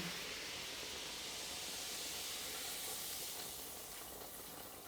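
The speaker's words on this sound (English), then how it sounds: "Get the old deglaze. And whilst that's deglazing, we're gonna stir this in" A pan deglazes while chilli cooks, giving off a steady, fairly quiet steam-like hiss that holds evenly for several seconds and eases slightly toward the end.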